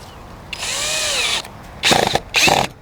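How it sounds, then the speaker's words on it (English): A power drill sets a decking screw between bricks in fresh mortar courses: a steady whining run of nearly a second, then two short, louder bursts close by, with no talking. "every other course, I'm putting a decking screw"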